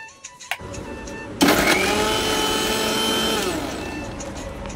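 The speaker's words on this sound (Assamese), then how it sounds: "এতিয়া মিক্সি জাৰ এটাত মই সেই কলৰ বাকলিখিনি দি ল'ম আৰু এটা পেষ্ট বনাই ল'ম" Mixer grinder jar whirring loud and steady for several seconds as it blends boiled raw banana peels into a paste, starting abruptly after a few soft knocks.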